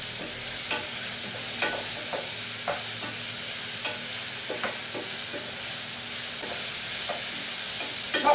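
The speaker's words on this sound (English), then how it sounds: "we're going to mix the mushrooms and the courgettes together" Mushrooms and courgettes stirred together in a frying pan, a steady sizzle under repeated scraping and clacking strokes of the utensil against the pan, close and clear.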